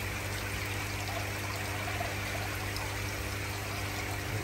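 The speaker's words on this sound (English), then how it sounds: "I've left the tap on, and I can just make a little trickle in" Water trickles from a steel hose into a garden koi pond, a steady, even, close splashing and running sound throughout, with no talk.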